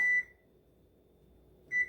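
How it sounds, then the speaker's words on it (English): An egg timer beside a small griddle gives two short electronic beeps, one at the start and one at the end, close and clear over quiet kitchen background. "that's the timer for the eggs"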